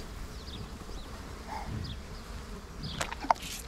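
Flies buzz steadily around dairy cows, a close, continuous insect drone with a few passes louder than others over low outdoor ambience, and a sharp knock near the end.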